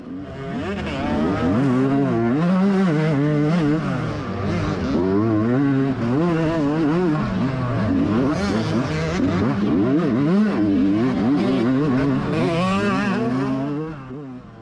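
Dirt bikes roar through a GNCC off-road race at Hoosier, loud two-stroke-style engines revving and shifting continuously with rising and falling pitch as a rider passes close by, sustained for the whole stretch without talk.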